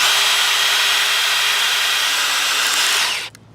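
A drill spinning a wood splitting cone into a log, a steady loud grinding whine of motor and wood that runs continuously and then cuts off abruptly near the end.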